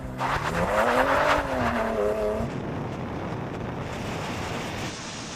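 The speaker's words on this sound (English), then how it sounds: "But which one will be quicker in the quarter-mile drag race?" A BMW iX3 and a BMW X3 M launch from the start line of a quarter-mile drag race, with a loud engine note rising for about two seconds before fading into wind noise as the cars pull away.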